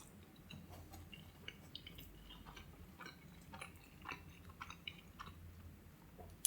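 Someone chews a bite of Pizza Hut barbecue brisket close to the microphone, faint, soft wet crunches and squishes repeating irregularly against a quiet background.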